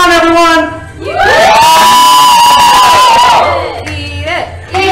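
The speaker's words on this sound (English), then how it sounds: "Cheer on, everyone!" A live gameshow audience cheers and whoops loudly for a contestant told to eat a jelly bean, a dense crowd roar that swells, holds and then drops off, with shouting voices mixed in.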